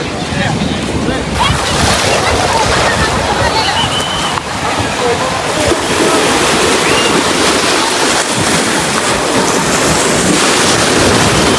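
Sea waves break on Calangute Beach in Goa, a loud, continuous surf roar close by, with wind buffeting the microphone throughout.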